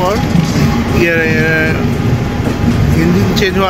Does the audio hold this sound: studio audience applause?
no